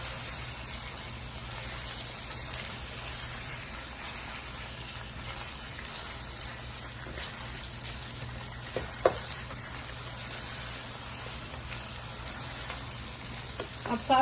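Garlic and ginger, a tablespoon each, sizzle and fry in a pan for chicken pulao, a soft continuous crackle with occasional stirring scrapes and a small clink near the end.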